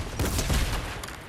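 Rapid pistol shots crack out in a quick burst during a battle-royale-style video game firefight, dense and loud over the game's ambient noise.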